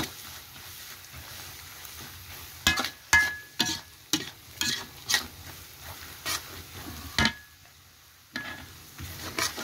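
Pangasius fish frying with garlic and pepper in a pan, a soft sizzle underneath a series of sharp scraping stirs that come in irregular bursts, close up and without speech.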